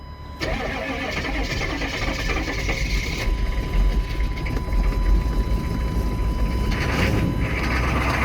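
A 1995 Chevy 3500 with a 6.5-liter diesel cold-starts on a chilly winter morning: a brief crank, then the engine catches and settles into a loud, steady, rough diesel idle close by.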